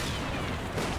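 Gunfire from an M8 Greyhound armored car in the World War II wargame Combat Mission Final Blitzkrieg, a dense, loud, continuous burst of booming reports filling the whole second with no talk over it.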